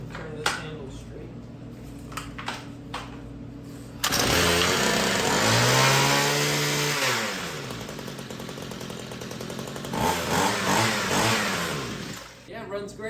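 A Homelite string trimmer's small two-stroke engine starts and runs, rising into a loud revving whine that swoops up and down in pitch before settling to a rougher idle, close by.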